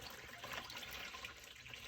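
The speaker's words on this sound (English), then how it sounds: "And let's pour the water in." Water poured into a container of soapy water for soaking a Golden Age comic book, a faint steady splashing trickle with no voices.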